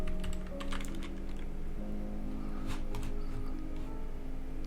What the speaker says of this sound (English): you will hear the clicking of my mouse